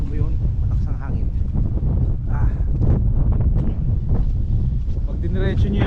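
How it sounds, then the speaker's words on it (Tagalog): Strong wind along Yonge Street in Toronto buffets the microphone in continuous low rumbling gusts, with a person speaking underneath the blustery roar. "malakas ang hangin"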